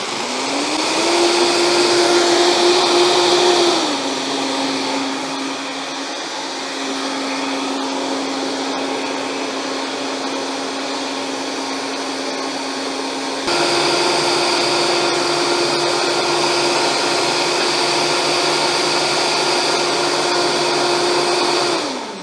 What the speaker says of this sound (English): Now you want to make sure that you blend this long enough until it's smooth